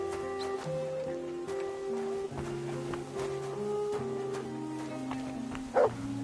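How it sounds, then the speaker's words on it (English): A dog barks in the video game Kingdom Come: Deliverance 2, with a few yips and short barks over a steady bed of tonal game music and ambient outdoor sound. "You silly doggy."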